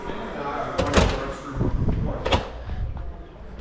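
A back door opening and closing as someone walks out past a gym toward a parking lot, with two sharp knocking thuds over a busy indoor background that sounds like voices.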